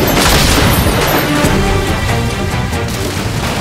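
Cannons on a pirate ship in Skull and Bones fire in a loud, continuous rumbling barrage of booms and crashes, with no voices over it.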